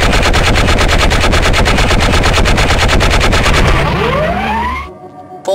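Rapid, loud automatic gunfire rattles at a firing range in the 2000 PC game Gunman Chronicles. A rising whine builds toward the end before the shots cut off abruptly into near silence.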